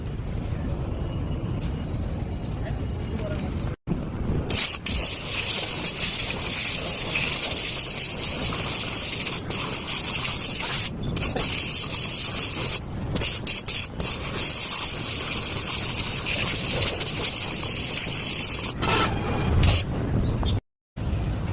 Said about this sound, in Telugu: చూడండి మనం వాటర్ వాష్ అయితే ఎంత క్లీన్ చేస్తాము